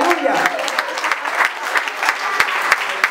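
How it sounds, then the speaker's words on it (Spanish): A church congregation applauds during a Spanish-language worship service: dense, steady clapping that fills the room, with a voice speaking over it. "un aplauso a Cristo, aleluya."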